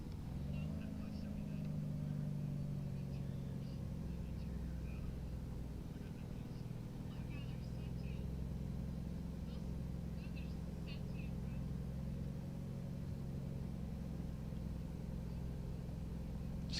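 Truck engine in American Truck Simulator idling with a steady low droning rumble, constant and fairly close, with faint cabin clicks and rattles throughout and no change in pitch.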